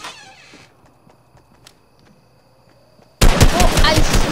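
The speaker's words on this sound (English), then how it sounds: "So I did hear gunshots." A loud burst of rapid Fortnite gunfire erupts suddenly after a quiet stretch of faint ambient noise, dense and continuous to the end.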